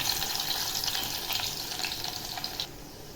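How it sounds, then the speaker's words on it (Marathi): Garlic sizzles in hot oil for a whole masoor curry, with a steady close crackle and hiss throughout that eases slightly near the end. "आता लसूण टाकते"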